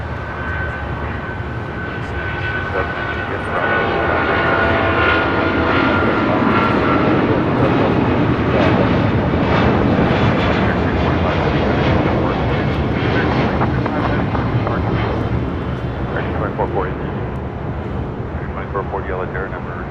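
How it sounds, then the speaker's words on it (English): American Airlines Boeing 777-200ER jet departing Los Angeles International for Miami, a loud sustained engine roar that swells and holds for about twenty seconds, broad and rumbling. "This flight heading to Miami, 777-200ER with American"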